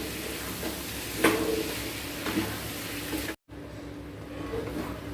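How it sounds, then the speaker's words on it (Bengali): Chickpeas and spices frying in a pan, a steady low sizzle with a few soft scraping stirs, interrupted by a brief cut before the frying noise resumes. "এখন আমি 10-15 মিনিট এখন এই কাবলি চানা দিয়ে মশলাগুলো সব কষাবো।"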